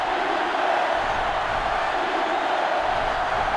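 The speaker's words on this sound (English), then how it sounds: "This sellout crowd is really making a difference now as these guys can't even call the play." Steady, loud stadium crowd roar from a sellout college football game in NCAA Football 2005 on GameCube, a continuous wash of cheering with no distinct voices or breaks.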